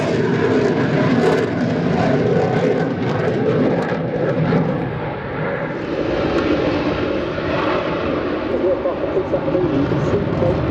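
A Finnish F/A-18C Hornet fighter jet pulls into a Cobra manoeuvre at an airshow, its engines producing a loud, continuous broadband roar that swells and holds steady, with a voice talking over it.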